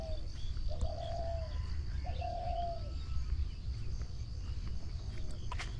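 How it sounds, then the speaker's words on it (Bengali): Doves coo several times in soft, drawn-out calls across a rural Bengal village on an autumn morning near golden rice fields, moderately distant over a constant hum of insects and a quiet outdoor background. "থেকে থেকে ঘুঘুর ডাক শোনা যাচ্ছে।"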